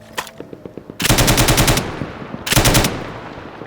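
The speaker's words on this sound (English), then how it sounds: "Each American rifle company was assigned a 3-man BAR team, and soldiers were taught on how to operate the gun, shoot the gun or die during combat" A Browning Automatic Rifle (BAR) squad light machine gun from World War II fires loud, rapid bursts: a few single shots, then two sustained automatic strings separated by a short pause.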